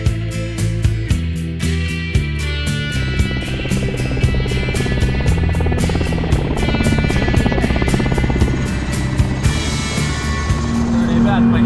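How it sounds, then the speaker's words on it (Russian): A helicopter's rotor chops rapidly and steadily with a loud engine whine, close by and continuous throughout, with no voices. "летит вертолет"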